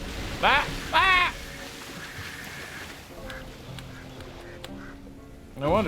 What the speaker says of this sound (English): No wonder the ducks are distressed.